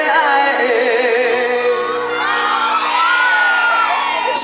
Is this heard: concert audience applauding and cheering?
yes